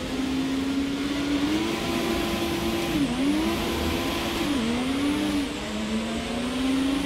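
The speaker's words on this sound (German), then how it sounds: "du hörst den Turbo schon" A historic Formula 1 car in the F1 2017 racing game drones loudly and steadily, its turbo and engine holding a sustained tone with brief dips where the pitch drops and climbs again.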